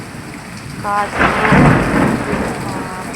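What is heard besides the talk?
rain during a storm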